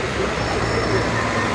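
A loud, steady rumble of a tram rolling past nearby on a street in Antalya, Türkiye, low droning wheel noise with a faint high whine, no distinct voices.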